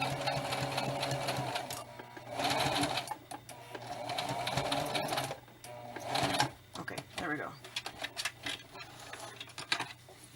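Sewing machine running bursts of stitching to lock the seam with a back stitch on a handmade spirit doll, steady whirring runs pausing between passes, near and moderately loud, with faint talk in the background.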